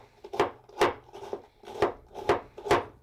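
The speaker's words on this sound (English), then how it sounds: "shred or slice the cabbage by whatever means you see fit. I used a knife" A knife slices through red cabbage, producing about seven crisp, rhythmic crunching strokes with short pauses between them. The cutting sounds close and clear, with no talking.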